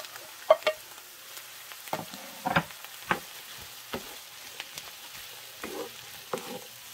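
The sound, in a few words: onions sautéing in a pan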